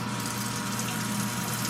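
Toto C100 washlet front water jet spraying, a constant hiss of water driven by a humming pump, steady and unbroken for the whole moment without any voices.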